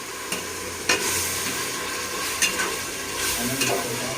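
Curd-marinated chicken sizzles steadily in a pan, close and fairly loud, with occasional scrapes and clinks as it is stirred.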